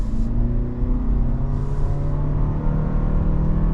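Toyota RAV4 Hybrid with its small 4-cylinder engine pulling under acceleration, a steady droning hum and road rumble heard from inside the car.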